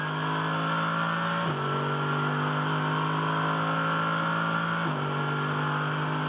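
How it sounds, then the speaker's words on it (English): A loud German V8 race car engine howls at a sustained high pitch, with two quick upshifts as it keeps accelerating, during an Australian GT Championship race at Townsville. "Great sound of the German V8."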